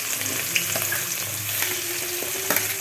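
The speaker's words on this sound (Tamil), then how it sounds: "வெள்ளை வெங்காயம் இஞ்சி எல்லாம் போட்டு நல்லா ஃப்ரை பண்ணிக்கலாம்" Shallots, white onion and ginger fry in hot oil with a steady, close sizzle, punctuated by a few soft stirring clicks and scrapes in the pan.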